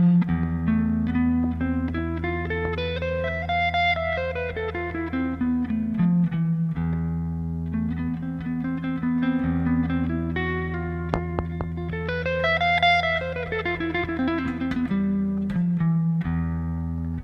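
Guitar runs up and down a Japanese exotic scale in E over a sustained low drone, the phrase played twice with reverb and a smooth, ringing tone, close and steady with no voices.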